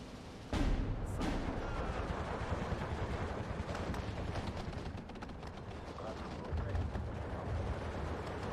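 Soviet SVT rifles firing alongside artillery in the Steel Division 2 video game, a continuous rumble of distant battle with a sharp blast near the start and scattered shots throughout.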